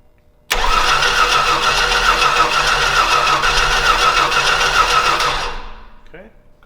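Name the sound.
tug engine starting after cleaning plugs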